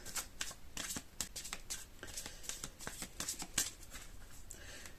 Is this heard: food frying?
no